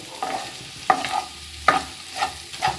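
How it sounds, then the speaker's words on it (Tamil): Ingredients are stir-fried over a high flame with curd, a low sizzle punctuated by repeated loud metallic scrapes and knocks of a spatula against the pan at an uneven rhythm, close and without talk. "இப்போ ஐ ஃப்ளேமில் வச்சுட்டு டைம் வந்து இப்படி வதக்கி விட்டுக்கலாம்"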